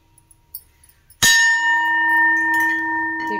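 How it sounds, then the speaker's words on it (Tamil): A single sharp strike sets an antique brass vessel ringing like a temple bell, a clear tone with steady overtones that sustains and slowly fades; faint handling noise follows. "கோயில் மணி மாதிரி சவுண்டு கேட்குது பாருங்க."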